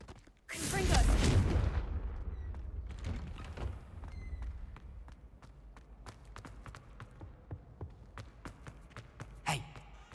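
A Confringo blasting-curse explosion in the Hogwarts Legacy video game erupts in a loud, broad burst, then tapers into a scatter of crackling impacts and thuds over ambient game noise.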